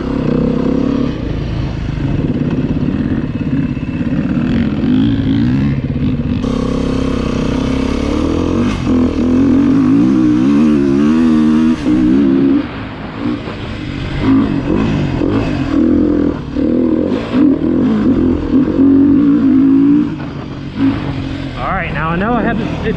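A 2019 Beta 350RR-S four-stroke dirt bike being ridden: loud, continuous engine drone rising and falling with throttle, warbling revs in the middle, heard close with a rider's voice talking over it.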